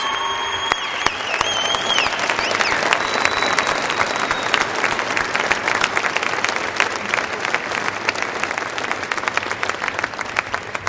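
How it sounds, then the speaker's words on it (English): Graduates at a university commencement applaud their family and friends, a large, sustained wave of clapping filling a big venue, with a brief tonal sound near the start. "acknowledge their family and friends with a round of applause"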